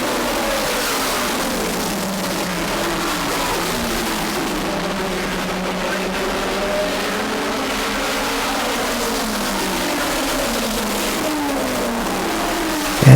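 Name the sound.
race cars racing on track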